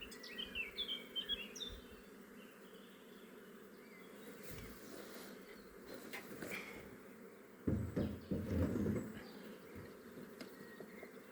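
A honeybee swarm being settled into a Dadant hive, heard as a steady, low, continuous buzzing drone with some brief louder handling noise partway through.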